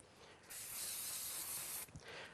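An aerosol spray can hissing onto a scrap piece of paper in one continuous burst of about a second and a half, close and bright, then a brief quieter trailing spurt.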